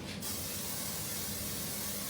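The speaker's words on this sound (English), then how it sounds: "we're going to get a bowl, and we're going to spray this with cooking spray" Cooking spray hisses steadily from a can into a bowl while making bread, a close, continuous spray lasting about two seconds with no talking.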